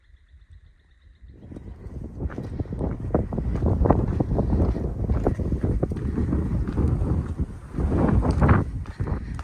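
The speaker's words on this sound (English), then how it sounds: "Quite windy again. It comes and goes, the wind." Strong wind buffets the microphone in a steady roaring rush after a quiet start, rising and falling in gusts, loud and close.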